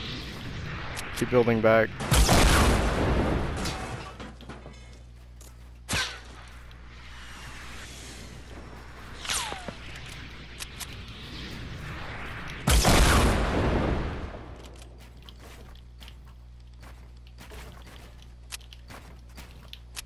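RPG rockets explode during a Fortnite match: two big booming blasts several seconds apart, with smaller shots and footsteps between them, while players talk over the action.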